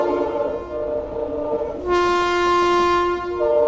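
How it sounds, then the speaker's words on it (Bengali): A passenger train leaving the station and picking up speed in Assam blasts a loud, sustained horn over the steady rumble of the moving carriages, recorded close up from on board. "তো গাইস, ট্রেনটা কিন্তু ছাইরা দিল"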